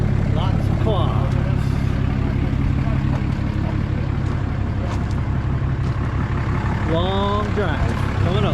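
A truck loaded with quads, including a Yamaha YFZ450R, heads for the Little Sahara sand dunes. Its low engine rumble drones steadily throughout while people talk over it.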